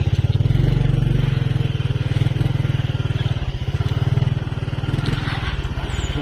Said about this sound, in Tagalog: Tingnan yung motor tatay.